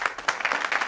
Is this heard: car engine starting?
no